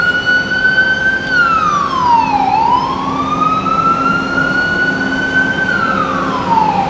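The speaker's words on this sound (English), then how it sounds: "I hear sirens." Loud wailing emergency siren on a Toronto city street, its pitch sliding down and back up in long sweeps over road traffic rumble, close and prominent with no voices.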